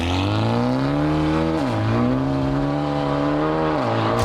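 A 4-litre V8 car engine holds a steady, rich drone, its pitch dipping briefly twice before climbing back. The engine is heard alone, with no voices.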